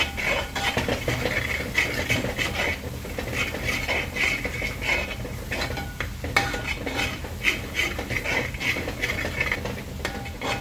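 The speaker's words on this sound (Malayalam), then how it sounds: "എന്നിട്ട് ഇതുപോലെ നന്നായിട്ട് ഇളക്കി കൊടുക്കുക." A spoon stirs masala of coriander powder, garam masala and pepper in a pan for green chilli egg masala, giving steady scraping and clinking against the metal with a faint sizzle underneath, continuous and close throughout.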